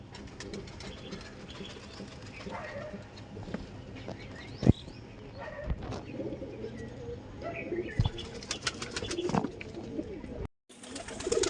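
Domestic pigeons coo repeatedly at close range in a loft, with low throaty calls, occasional wing flaps and rustling, and faint voices in the background.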